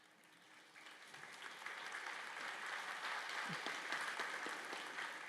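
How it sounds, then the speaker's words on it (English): An audience at a nursing pinning and candle-lighting ceremony applauds hospital representatives, and the crowd clapping swells from quiet to a steady, fuller level heard from a distance. "then we're going to applaud them"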